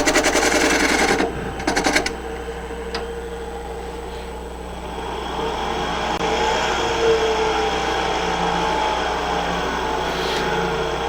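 Wood lathe spinning a quaiche bowl, a shallow two-handled drinking bowl, at around 1200 RPM, giving a steady mechanical hum. A few sharp knocks open the sound, then a faint hiss of tool contact runs throughout.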